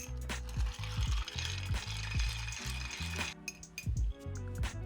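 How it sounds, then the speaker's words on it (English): A bar spoon stirring a martini in an iced mixing glass, with a rapid rhythmic clatter and tinkle of ice against glass, close and steady throughout. "let's grab our spoon and stir for 5 to 10 seconds, or between 30 and 40 rotations"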